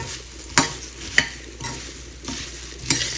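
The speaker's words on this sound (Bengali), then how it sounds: "এবার মুড়ি ভাজা করে নেব" Puffed rice (muri) frying in oil in a pan gives a steady soft sizzle, broken by about four sharp scraping knocks as it is stirred, close by and with no voices.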